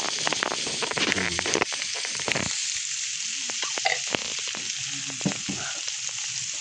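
Baguio beans and egg frying in a little oil, a loud crackling sizzle close by with sharp spatters and stirring clatter, easing into a softer hiss partway through.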